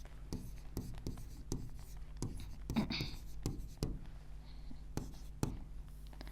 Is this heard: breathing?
no